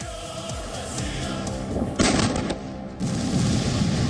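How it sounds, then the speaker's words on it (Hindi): Artillery shelling in Ukraine, with Russian guns firing shells onto streets: dense, continuous rumbling booms and crackling blasts fill the clip, growing louder in sudden surges near the middle and toward the end, with no talk. "रूस के तोप यूक्रेन की गलियों पर गोले बरसा रहे हैं"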